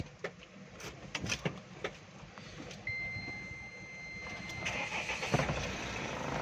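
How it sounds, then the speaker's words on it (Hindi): A Mahindra Scorpio engine cranks and catches midway, settling into a steady close idle, with a thin electronic beep tone sounding over it and scattered clicks and knocks around the cabin before the start. "अभी मैं गाड़ी स्टार्ट करता हूँ।"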